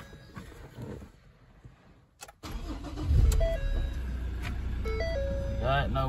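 A Ford Ranger Wildtrak pickup engine starts and settles into a steady idle, with a couple of electronic chimes and beeps sounding over the running motor.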